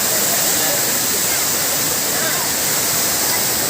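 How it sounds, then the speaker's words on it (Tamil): Water crashing down the rocks at Hogenakkal Falls waterfall in India, a steady loud broadband roar with no break, close by and filling the whole scene. "இவ்வளோ தான் மொத்தமே அருவியில் தண்ணி விழுந்துக்கிட்டு இருக்கு"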